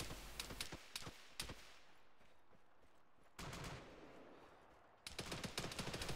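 Bursts of gunfire in the military video game ArmA 3, set on Sahrani in 1982: rapid sharp shots early on, a lull, then renewed heavy firing, loud and close.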